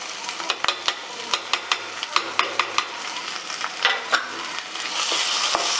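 Ground cumin, coriander and Kashmiri chilli powder are stirred into a frying masala, with a spoon scraping and tapping the pan in a loose rhythm over a steady sizzle that grows louder toward the end.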